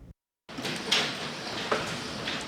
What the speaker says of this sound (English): When the bay doors go up these nights for the Parksview Volunteer Fire Department